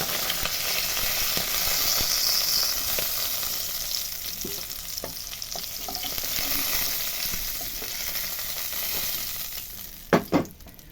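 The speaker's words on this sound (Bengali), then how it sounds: "মাছগুলো যথেষ্ট বড় বড় তাই একবারে ভাজা যাচ্ছে না" Large pabda fish fry in hot oil in a pan, a steady close sizzle that hisses throughout, ending with a couple of sharp utensil knocks near the end, with no talking.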